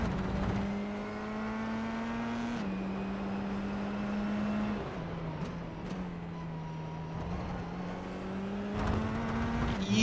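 A Formula 4 race car engine heard from the cockpit in a sim racing game at Circuito de Navarra, a loud, steady high-pitched drone that drops and climbs again through gear changes and throttle shifts around the lap.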